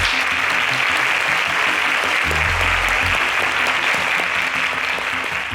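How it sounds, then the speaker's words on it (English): Applause from a studio audience for a contestant on a national agricultural science quiz show: steady, dense clapping that fills the whole stretch at an even, fairly loud level, with no talk over it. "A round of applause for Mariam, please"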